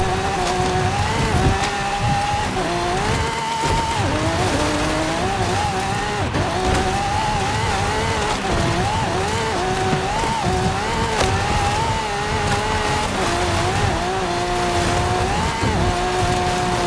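A Lamborghini Centenario races in Forza Horizon, its engine droning loudly and continuously, the pitch rising and falling through gear shifts, with tire noise underneath.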